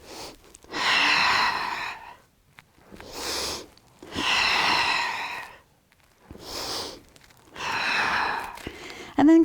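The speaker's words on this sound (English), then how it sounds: "Inhale, exhale." An instructor in a Pilates session with a power ring breathes audibly in and out. The breaths are long and strong and come close up in a slow, regular rhythm, about five of them, with quiet pauses between.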